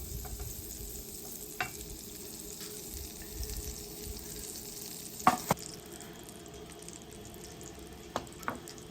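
Half a tablespoon of butter melting and sizzling in a hot pan, a soft, faint crackle under quiet room hiss, broken by a few sharp clicks and knocks of utensils.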